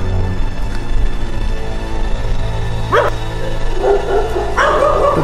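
A dog barks in a street at about two in the morning, a few sharp yaps standing out near the end over a steady low rumble of background noise, with no talking.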